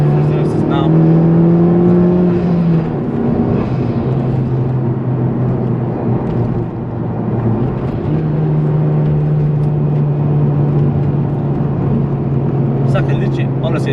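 A Honda Civic Type-R FK2 pulling hard under power, its engine note droning loud and steady from inside the cabin with pitch rising and shifting through gears, while someone talks over it.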